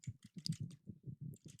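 Light keystrokes on a computer keyboard as a web address is typed, a quick irregular run of soft clicks, close and quiet.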